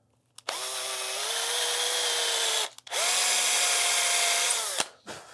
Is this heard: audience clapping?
no